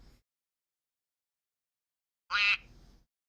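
A rubber bird toy gives a single short, bright squeak as it is squeezed, a near burst that follows a long stretch of silence.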